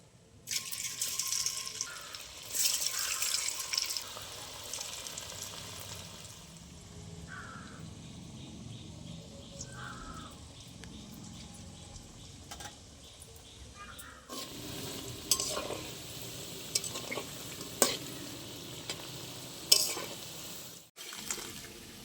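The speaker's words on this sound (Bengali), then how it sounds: "একই রকমভাবে আমি সব পিঠেগুলো ভেজে নেব।" Palm-fruit chushi pitha frying in hot oil: an intermittent soft hiss and sizzle, with crows cawing repeatedly nearby and a few clinks from a spoon or utensil.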